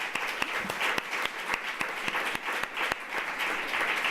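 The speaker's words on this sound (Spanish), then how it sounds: "yo le quiero dar un aplauso" An audience at a talk applauds for Carmeta Morán, a steady wash of many hands clapping with sharp individual claps standing out near the front, continuing evenly throughout.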